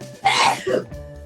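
A single quick sneeze bursts out close to the microphone, sharp and loud, followed by a brief softer exhale.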